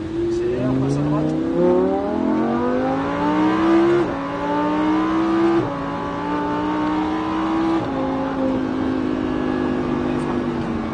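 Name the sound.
sports car accelerating on a racetrack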